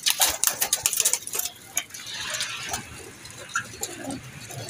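A pair of teddy pigeons, a male and a female, coo softly amid scattered bird calls and light clicking, with a busier burst of sound in the first second and a quieter stretch after.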